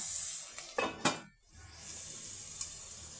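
A lid goes onto a pan of onions for do pyaza, with a few sharp metallic clinks and clatters of cookware, followed by a low, steady sizzle underneath and one more light clink; close, with no talking.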